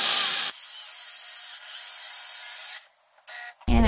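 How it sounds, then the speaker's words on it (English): A power drill whirs in two sustained bursts into wooden dowels, its pitch wavering slightly, followed by brief quieter whirs and a clatter at the end. "now I'm going to drill holes in these dowels"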